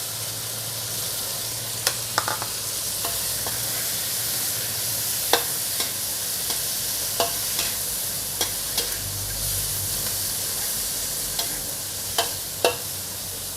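Crispy pork and holy basil leaves stir-fried in a pan, a steady close sizzle broken by a dozen sharp scrapes and clacks of the spatula at irregular intervals.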